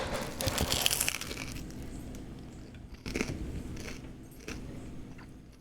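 Close-miked crunching of bread in an ASMR style, with a loud crackling bite near the start followed by a quieter run of crumbly crunches and a few more distinct bites, steady room hum underneath and no talking.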